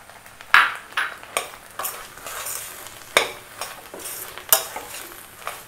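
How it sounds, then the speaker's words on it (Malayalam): A jaggery, lentil and coconut mixture with ground cumin and cardamom being stirred in a pan, with a spoon scraping and clinking against the metal in irregular strokes over a soft sizzle, close and alone. "നമുക്കിനി വാങ്ങുന്നതിന് മുമ്പ് ജീരകവും ഏലക്കായും കൂടെ പൊടിച്ചതൊന്ന് ഇട്ട് ഇളക്കിയെടുക്കാം."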